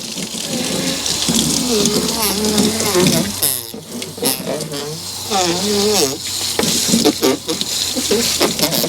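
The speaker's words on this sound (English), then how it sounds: "I'm going to flush this out from the back side here, back flush it." Running water gushes and splashes steadily throughout as dirty water is back-flushed through an APU unit, with someone talking over it at close range.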